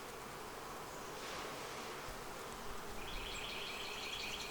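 Honey bees in a Flow Hive with laying workers and no queen hum in a steady, soft drone that carries throughout, with a few higher insect whines joining near the end.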